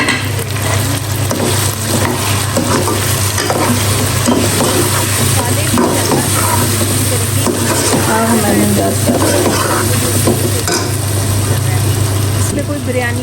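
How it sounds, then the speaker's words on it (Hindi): Spices frying in a pan while a masala is roasted, giving a steady, close, continuous sizzle with scraping stirs and a low constant hum underneath throughout. "बस ये मसाले डाल के इसको भून"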